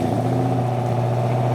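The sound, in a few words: Pontiac Trans Am departing a classic car meet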